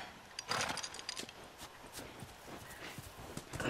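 Horse in The Last of Us Remastered, with irregular hoof clip-clops and shuffling steps at close range over a low ambient background, plus a few faint bursts that may be voices.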